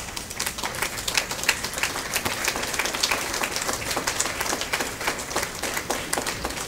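Audience applause at a public event in Québec: steady, dense clapping from a sizable crowd that holds evenly through the whole stretch, with no speech over it.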